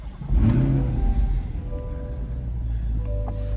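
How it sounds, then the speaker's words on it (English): A Chevrolet Corvette C8 engine cranks and fires with a loud, close rev, then settles into a steady, lower idle rumble. "now with the key in the car, we'll go ahead and start it."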